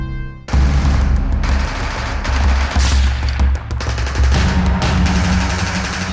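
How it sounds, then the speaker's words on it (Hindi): Light machine gun fire from a bunker in an India–Pakistan war battle, loud sustained bursts of rapid shots rolling on continuously for several seconds with heavy booming low end and no talk. "सामने के बंकर से लगातार लाइट मशीन गन से फायरिंग हो रही थी।"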